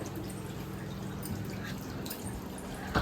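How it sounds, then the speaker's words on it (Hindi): Water runs from a household tap during house cleaning, a steady soft splashing and trickling with faint drips and a brief sharper splash near the end, no voices. "और अब यहाँ पानी चल रहा है"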